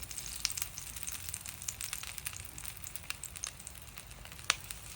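A crab smashburger patty sizzles in a little oil on a hot pan, giving a steady, quiet crackle with scattered sharp pops throughout.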